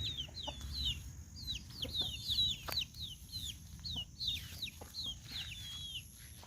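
Several chickens clucking and chirping close by on a mango and banana farm in quick, overlapping calls, over low background noise, with no one talking.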